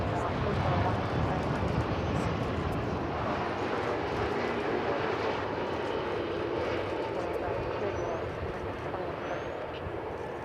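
An American Airlines airliner on runway 18 left at Dallas/Fort Worth airport produces a steady, broad jet engine roar that stays loud and constant throughout, heard from a distance across the field.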